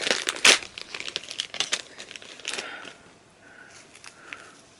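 Plastic packaging crinkles and tears as labels come off toy teddy bear hearing aids, a burst of sharp rustling early on, then quieter crinkles and faint handling fading toward the end.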